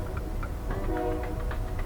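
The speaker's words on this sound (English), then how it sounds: "That's train horns." A steady, droning train horn sounds from a distance over rumbling rail noise and faint rhythmic ticking, with no voices.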